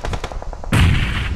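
Gunfire in a BGMI battle royale match: a quick run of light shots is followed by one loud, close blast that rings out and decays.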